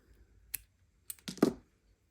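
Scissors snipping the thread ends of a gift tag tassel, with a few quick close clicks and a short crisp cut in a quiet room.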